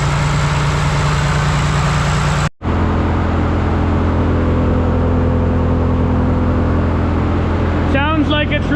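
A John Deere 2955 tractor engine runs at a steady idle with its PTO engaged, giving a constant low drone that cuts out for a moment. A brief high mechanical whine comes near the end.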